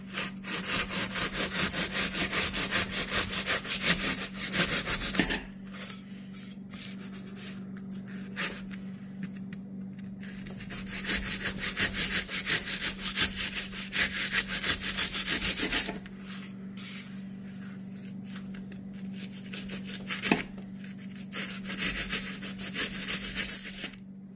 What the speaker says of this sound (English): I'll go ahead and show you just how I cut that with the drywall saw